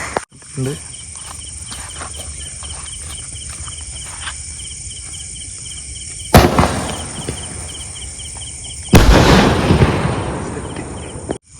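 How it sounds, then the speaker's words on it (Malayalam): A Pumas brand 2-inch firework shot going off outdoors at night: two loud, crackling bursts a few seconds apart over a steady background of chirping crickets. "ഇപ്പോൾ നമ്മുടെ ഫസ്റ്റ് ഷോട്ട്, പ്യൂമാസ് ബ്രാൻഡിൻ്റെ ഫസ്റ്റ് ഷോട്ട് നമുക്ക് ടെസ്റ്റ് ചെയ്ത് നോക്കാം. നമുക്ക് ഷോട്ട് കത്തിക്കാം."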